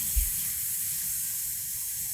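A voice imitates a sizzling fajita plate of sautéed chicken: a steady, hissing, broadband fizz that holds for about two seconds, led by a brief low thump at the start.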